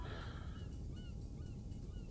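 Birds squawk and honk like geese after being struck by a golf ball in the video game Golf Club Wasteland, a steady run of close, overlapping calls over a low background rumble.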